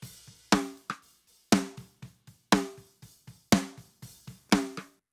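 A punchy Modern and Massive snare sample struck in a steady pattern, loud cracking backbeats with ringing tails alternating with softer ghost notes and faint kick thumps bleeding underneath, in a pop punk drum mix.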